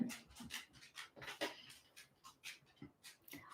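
Quick, soft clicking and scuffing in an irregular rhythm from two dogs' claws and movement on a floor, with faint panting nearby.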